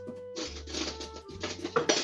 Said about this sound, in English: then we use a spoon to mix it all up